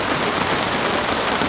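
Steady rain pours down at a deserted campsite beside a mountain stream, a dense, even hiss of drops hitting surfaces with no breaks and no voices.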